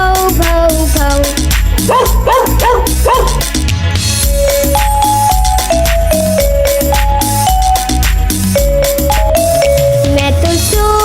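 A voice imitates a dog's barking in repeated sung bursts within a bouncy Hindi children's rhyme, set over loud, steady music with a prominent bass beat.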